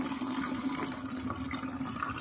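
Water is poured into a bowl in a kitchen, a steady faint splashing trickle running continuously for a couple of seconds with no voices.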